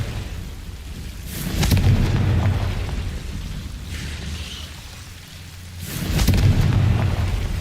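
Confringo spell explosions in Hogwarts Legacy, two swelling booming blasts a few seconds apart over a steady rumbling, crackling background, loud and close, with no talking.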